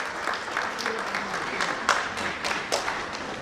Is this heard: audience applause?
yes